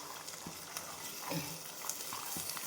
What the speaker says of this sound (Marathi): हे पण छान परतून घेऊया तेलामध्ये